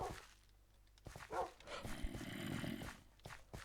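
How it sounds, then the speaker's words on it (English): Dogs in the Minecraft video game growl and bark in short rough bursts, fairly close and moderately loud, over a steady game background. "Three dogs."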